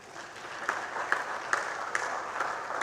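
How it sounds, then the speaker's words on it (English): Brief applause from the audience at an engineers' induction ceremony for graduate members, moderate and fairly distant, with a few sharper claps standing out from the steady patter. "I want a special applause for this man."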